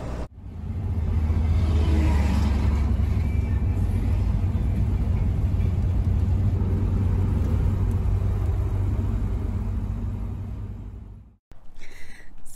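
A motorhome drives along a road in Uzbekistan in about 40-degree heat, with a steady low rumble and road whir heard from inside, which cuts off abruptly near the end.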